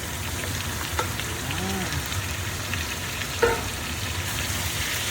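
Jackfruit simmers and sizzles in a pan for ginataang langka, a steady bubbling hiss broken by a couple of spoon scrapes as it is stirred, with a brief voice.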